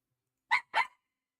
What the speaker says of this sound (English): the dog has things to say